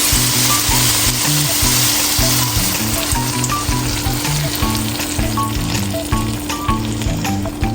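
Heavy cream poured into a pan of brown stew pork for rasta pasta, setting off a loud, continuous close sizzle and bubbling, with a low musical tone running steadily underneath.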